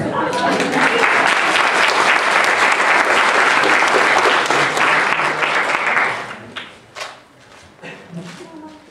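A concert audience applauds loudly, dense steady clapping filling the space for about six seconds before thinning into a few scattered claps and faint murmurs.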